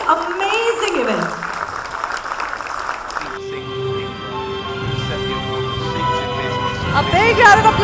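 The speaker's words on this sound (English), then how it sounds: "A big round of applause, ladies and gentlemen." Audience applause at the Annual Sikh Awards 2015 in Delhi, a steady broadband wash of clapping heard under a voice at first, then continuing beneath music that comes in partway through.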